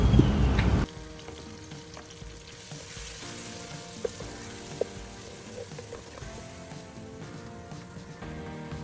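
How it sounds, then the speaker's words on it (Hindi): Onions and masala being bhuna-fried in a pan for paya, a loud burst of sizzling at the start that settles into a quieter, steady crackle with two sharp spoon clicks and no talking. "फिर मैंने मसाला ऐड किया, उसको अच्छी तरीके से भून लिया।"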